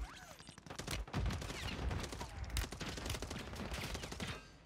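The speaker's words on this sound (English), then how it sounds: "That's three dudes shooting at me." Sustained automatic gunfire from several weapons in the battle royale game Warzone, dense rattling bursts at moderate loudness running almost continuously, with no talk over them.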